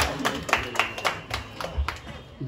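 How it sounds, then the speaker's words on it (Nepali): An audience claps along in rhythm at a lively welcome event, a steady series of sharp close hand claps with a faint voice underneath. "सबैले तालीमा तालीले सुरु गर्नु होला साथ दिनु होला"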